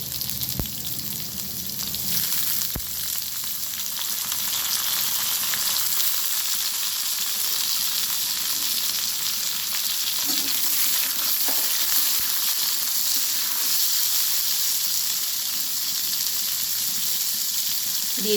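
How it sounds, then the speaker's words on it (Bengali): Papaya and pointed gourd fry together in a pan, a dense, steady sizzle close up with a couple of sharp utensil clicks and soft stirring movements, no speech. "এবারে আমি পেঁপে দিয়ে দিচ্ছি।"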